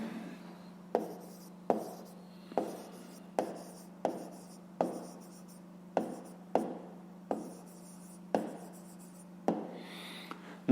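Pen strokes on paper as a math solution is written out by hand, a steady series of about a dozen short scratching strokes in regular rhythm, close and clear over a low steady hum, with no speech.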